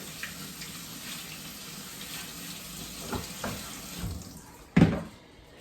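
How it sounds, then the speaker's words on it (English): Tap water runs over canned garbanzo beans in a kitchen sink, a soft steady hiss and patter close by, ending with a brief louder splash. "Put those in here, and again, just rinse them off real good."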